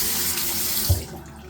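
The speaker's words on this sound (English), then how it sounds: "I've wet my face down with some hot water." Hot water runs steadily from a bathroom tap with a close, hissing splash, broken by one brief low thump near the end. There is no talk.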